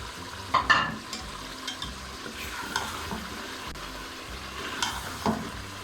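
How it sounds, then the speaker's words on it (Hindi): Tomatoes and spices for chicken biryani fry in a pan, giving a steady close sizzle with repeated spatula stirs and scrapes against the pan, heard without talk. "ये टमाटर डाल इसको हम 2 से 3 मिनट भून लेते हैं।"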